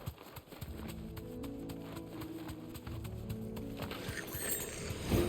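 Horse hooves clop at a steady trotting rhythm through marshland in Final Fantasy 16, running the whole time under low game music with a faint mechanical clatter.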